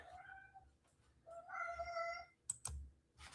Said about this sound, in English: You hear my cats in the background.